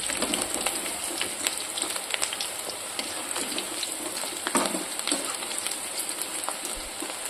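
Onion pakoda frying in hot oil as it is stirred, a dense crackling sizzle full of tiny pops and clicks, heard continuously up close with no voices.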